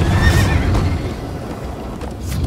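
A horse whinnies loudly in the Minecraft Story Mode video game while being ridden, a bright rising neigh over galloping hoof clatter and rushing motion noise, with no talking.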